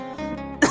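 A man gives a brief, throaty cough, close and fairly loud, lasting under a second.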